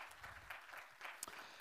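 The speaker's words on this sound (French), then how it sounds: "Sous vos applaudissements." Audience applause after a speaker at a corporate finance conference plenary, faint and brief clapping from a seated crowd.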